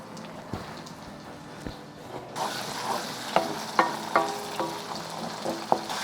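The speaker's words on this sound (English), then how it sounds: "As all of your cherry tomatoes start to pop and explode a little bit, so be careful with that." Cherry tomatoes frying in garlic-flavored olive oil in a pan, a steady sizzle that jumps louder partway through as they go in, with sharp pops and crackles from the bursting tomatoes and occasional utensil taps, no talking.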